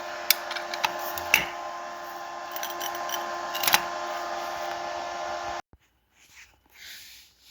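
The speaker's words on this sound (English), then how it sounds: "Now I'm going to weld it." Welding on 1.75-inch tubing for an M715 engine swap: a continuous crackling, buzzing arc with sharp pops runs for about five seconds, then stops abruptly, leaving near silence.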